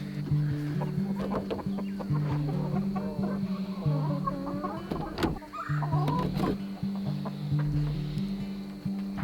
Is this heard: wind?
no